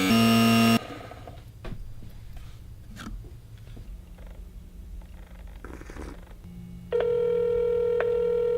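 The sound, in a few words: telephone ringing for a phone call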